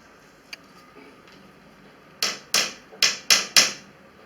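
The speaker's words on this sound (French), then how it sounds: "vous rajoutez des punaises sur le côté avec le marteau bien sûr" A hammer drives tacks into the side of a homemade mosquito net frame: five sharp, evenly spaced knocks close by, preceded by a faint tap and light handling noise.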